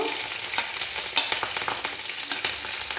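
Bay leaf and green chilli crackling in about four spoons of hot oil for ghugni, a dense continuous sizzle with small sharp pops and stirring clicks, close up and without talk.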